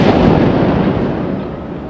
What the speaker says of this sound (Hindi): एक भीषण विस्फोट हुआ और देर तक धुएं का गुब्बार उठा।